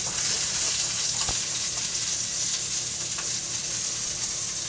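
Steak au poivre sears in a very hot pan, giving a loud, steady, close sizzle that hisses unbroken from start to finish with no talk.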